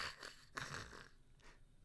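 A voice imitating the snoring of a sleeping character: a few soft, breathy snore-like snorts and wheezes, faint and close.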